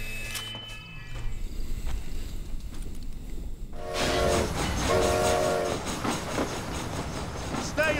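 A train in the video game Red Dead Redemption: Undead Nightmare, with a quieter rumbling stretch giving way to a loud, sustained blare of the horn and the roar of the moving train, briefly marked by a tonal whistle at the start.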